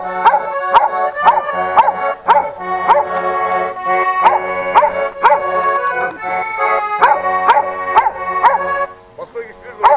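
A dog howling and yipping along with a loud rhythmic song at a camp base in the Altai, its voice mixed into the music and continuing throughout.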